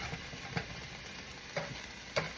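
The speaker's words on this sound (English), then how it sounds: "I already started cooking these onions and stuff, so it's almost done." Onions and vegetables fry in a pan for a breakfast egg scramble, with a soft steady sizzle broken by three clear stirring scrapes, close by and without talk.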